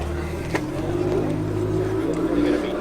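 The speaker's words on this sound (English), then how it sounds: "Porsche departs." A Porsche pulls away from an April car meet at Combermere, a moderate engine hum rising briefly as it drives off, with faint crowd talk in the background.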